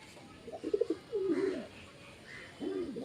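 A pet pigeon calling its mate with soft, throaty coos, a short rolling series followed by two longer drawn-out coos, close and fairly quiet over faint background hiss.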